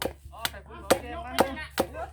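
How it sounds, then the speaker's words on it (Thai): Several sharp, hard knocks of a hammer striking nails, spaced about half a second apart, mixed with a person's voice talking over them. "ค้อนตีตะปูเด้อ"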